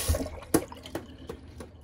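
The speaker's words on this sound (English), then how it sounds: "Just shake off the excess water there, rub it on my shirt." A synthetic Envy Shave Eight Ball tuxedo-knot shaving brush shaken to throw off excess water, giving a handful of short, close wet splashes and drips spaced irregularly across a couple of seconds.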